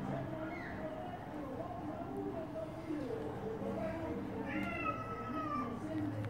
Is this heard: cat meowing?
yes